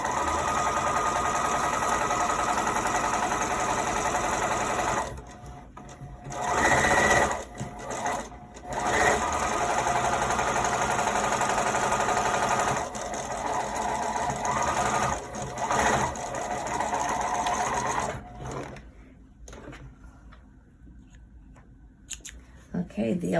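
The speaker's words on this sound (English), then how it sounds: "Now we're going to do another line of stitching about a 1/2 inch from the top" A sewing machine stitches a hem line in steady runs of rapid mechanical whirring, loud and close, pausing briefly now and then and near the end.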